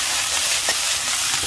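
Bean sprouts stir-fried at high heat in oil with a teaspoon of salt give off a steady, close, loud sizzle and hiss, with a few scraping stirs. No one speaks.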